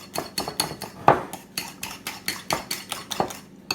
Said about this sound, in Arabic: نخلطو كلش مليح